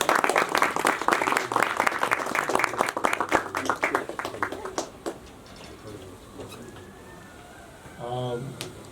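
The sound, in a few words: audience applause at video launch ceremony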